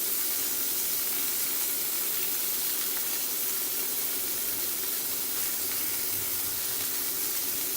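Moroccan beef koftas cooking on an electric hob give off a loud, continuous hissing sizzle that holds evenly throughout with no pauses or talk.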